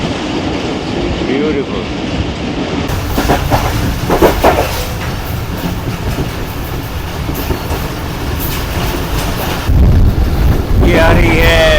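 Zikria Express passenger train rumbling along a curved track past green fields in morning light, a loud continuous clatter of wheels with wind buffeting the microphone and a brief spoken exclamation.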